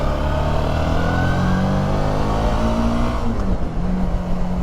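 A Suzuki V-Strom 650 V-twin motorcycle engine accelerates in a steady, loud, continuous run with rising engine tones, close and alone with no talk.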